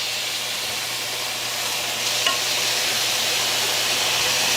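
Chicken frying in a pan just after being flipped, giving a steady, moderately loud sizzle with a faint stir or clink partway through and no talking.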